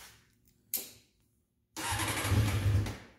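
A 1995 Honda CBR600 with carburetors cranks over with a short starter burst, falls quiet for a moment, then catches and fires into a loud, rough idle close by.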